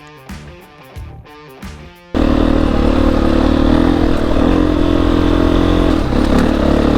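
A motorcycle climbing a hill on a trail during a solo ride, with its engine bursting in loud and close after about two seconds of quieter, mixed sound, then roaring continuously at high revs for the rest of the clip.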